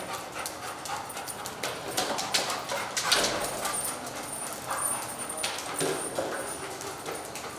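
A search and rescue dog moves about nearby, with panting, whimpers and scattered barks mixed with footfalls and clatter over a busy background.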